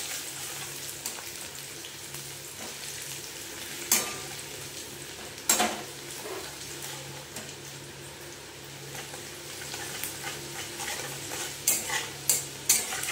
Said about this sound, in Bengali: এটা একটুখানি হালকা করে সটে করে নেব।